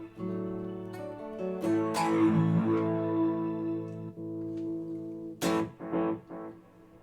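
Electric guitar chords and single notes ring out through a Line 6 HX Stomp with heavy effects, sustaining with a wide, washy reverb tail, followed by a few short plucked phrases.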